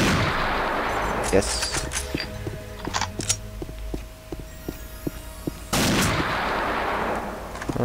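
Weapon fire in the Unreal Infiltration video game, sharp loud bursts at the start and again near the end around a stretch of metallic clicks and handling noises, with a brief spoken word.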